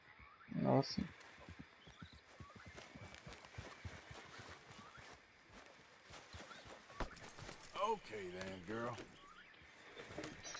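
Horse hooves clip-clop in Red Dead Redemption 2, a steady trotting rhythm at moderate distance, broken by a brief whinny near the start and again around the eighth second, with a voice talking throughout.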